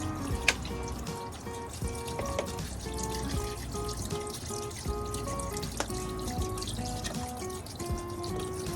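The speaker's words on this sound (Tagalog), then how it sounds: "pwede na ho natin lapagan ito ng tubig. 2 liter ng mineral water." Mineral water poured from a 2-litre bottle into a pot for chicken tinola, a continuous trickling and splashing stream, close and fairly quiet, with a few small knocks.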